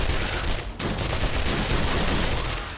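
Gunfire in the zombie survival game 7 Days to Die rattles off in a loud, rapid burst, pauses for a moment, then resumes as dense continuous firing, close and harsh.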